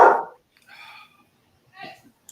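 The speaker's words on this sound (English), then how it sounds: "Yeah, I got dogs barking now too." Dogs bark a few times at a distance, short sparse yaps separated by quiet gaps, with one louder burst at the start.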